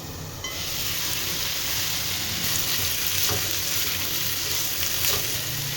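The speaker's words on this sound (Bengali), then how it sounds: "এই সবজিগুলো একটু ভালো করে নাড়াচাড়া করে নেব।" Carrots and onions fry and get stirred in a hot pan, a steady close sizzle with a soft scraping texture running the whole time and no voices.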